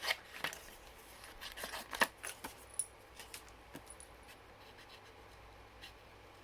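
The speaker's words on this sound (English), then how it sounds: "now let's give him a little snip around." Scissors snipping around a stamped paper image in short, quick, irregular cuts, close and quiet, with faint rustling of paper between the snips.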